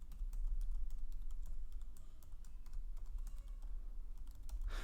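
Soft, rapid keystrokes on a computer keyboard as an email address is entered, a quiet steady patter of clicks over a low background hum.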